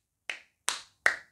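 Three evenly spaced, sharp hand claps made in imitation of a seal, crisp and close with a short decay after each, no voice over them.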